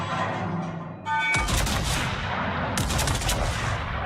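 Naval guns boom in World of Warships, a heavy salvo crashing in after a brief electronic tone and rumbling on loud and close, with a second burst of blasts landing moments later.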